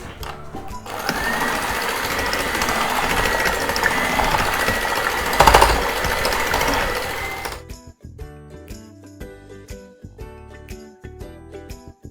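Electric beater whipping cream into custard for a lab-e-shireen dessert, a steady loud motor whir running about seven seconds, then cutting out to quieter clinks and rattles.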